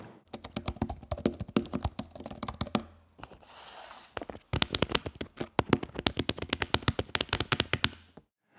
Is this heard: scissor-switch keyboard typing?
yes